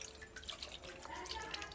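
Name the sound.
washing fish with clean water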